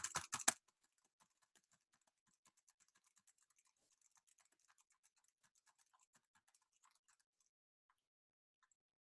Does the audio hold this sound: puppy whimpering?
no